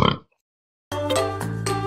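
A pig grunting and oinking, a short snort at the start followed by a sustained, loud, nasal oink after a brief pause.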